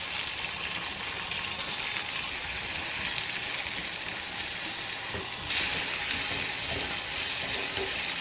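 Ivy gourd (kovakkai) sautés in a pan, giving a steady broadband sizzle throughout with a brief louder burst of frying partway through, with no voices.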